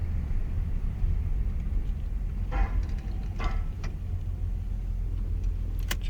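A 1991 Chevy S10 pickup truck drives along with a low, steady engine and road rumble heard from inside the cab, with a few brief clicks and rattles over the drone.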